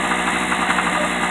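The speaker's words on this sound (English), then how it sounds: "that rattle you hear is an exhaust ping" A Harbor Freight 800/900 watt portable generator runs close by with a steady engine drone, carrying a continuous metallic exhaust ping rattle throughout. No one speaks.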